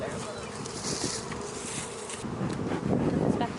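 Honey bees buzz steadily around an opened, overwintered hive during a spring inspection, a dense close swarm drone that swells and fades, with some rustling and handling noise mixed in.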